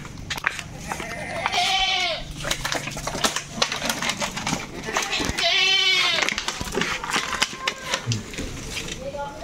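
Goats being loaded for shipping, several loud close bleats rising over clattering and handling noise, while people talk in the background.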